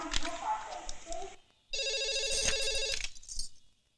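A telephone rings in two loud electronic bursts separated by a short pause, with no one speaking.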